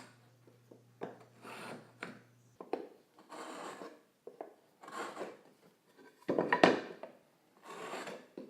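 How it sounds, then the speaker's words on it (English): A knife or marking gauge scores tenon shoulders on maple wine rack rails, giving short, close, dry scratching strokes in separate bursts with quiet gaps between them. "I'm going to go ahead and score all of the shoulders so that I don't get any tear out"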